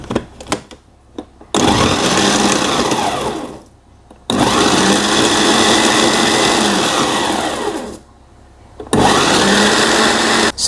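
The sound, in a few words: blender coarsely grinding chili sauce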